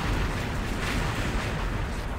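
A loud, dense burst of explosive noise from a stun grenade in the video game XSHOT, a rumbling blast that fills the whole stretch without pause.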